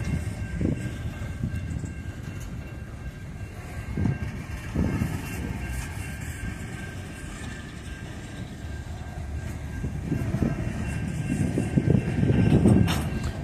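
BNSF 9253, a coal train, rolls through Effingham, Illinois, with a continuous low rumble of cars and wheels that swells and fades, building louder toward the end.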